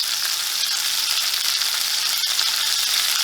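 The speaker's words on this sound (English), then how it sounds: "I just really wanted to get that sear while that fat was still, not entirely cooked." Bone-in pork chops sear in a cast iron pan, giving a steady, loud, close sizzle of fat and meat that holds constant without pause and with no voices over it.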